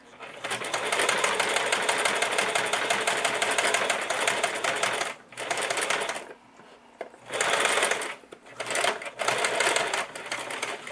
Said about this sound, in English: So now you see I'm actually sewing into this ditch,